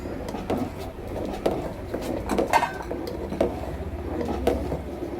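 Semolina porridge (tharikanji) stirred in a pot on a low flame, a spoon scraping and knocking against the metal in a steady, irregular clatter at close range, with no talking.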